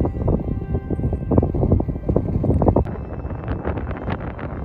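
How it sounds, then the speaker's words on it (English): Strong wind buffeting the microphone on a hike on the Big Island, Hawaii, loud gusty rumbles that ease slightly partway through, with no talking. "Very windy, so hopefully you can hear me through the microphone."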